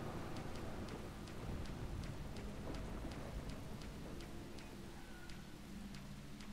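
Rain in the video game Deadly Premonition falls as a steady, dense hiss with faint regular ticks through it, continuous and unbroken, with no voices.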